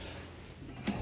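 A drawer sliding open or shut in a 2026 Forest River Surveyor Legend 202RBLE travel trailer, one brief soft thump near the end over a low steady background hum.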